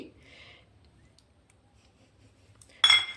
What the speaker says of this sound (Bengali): প্রথমে আমি একটু চামচ দিয়ে মিশিয়ে নিচ্ছি